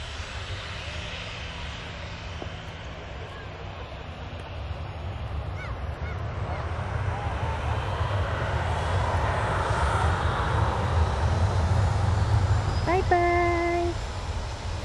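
A fixed-wing airplane's engine roars overhead during plane spotting, a broad steady rumble swelling louder and nearer across the stretch, with a short honk near the end and people chatting throughout.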